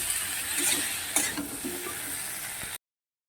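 Potatoes stir in a pan with tomato and ginger, giving a soft continuous sizzle with a few scraping knocks of the spoon before the sound cuts off abruptly.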